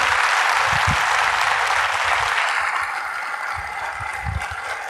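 Audience applause at a motivational program, a loud dense roar of clapping from a large crowd that eases slightly in volume midway but continues to the end.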